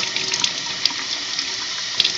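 Water runs fast through a car's automatic transmission filter during a filter change, making a close, constant hissing rush with a couple of small clicks and no speech.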